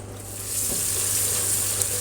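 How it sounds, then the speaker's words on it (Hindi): Chopped onions frying in hot oil in a pan for a chicken biryani, giving a steady, close hiss of sizzling that swells slightly after the first half second and holds evenly, with no voices. "प्याज गोल्डन ब्राउन होने के बाद इसमें अदरक लहसुन डाल दूँगी"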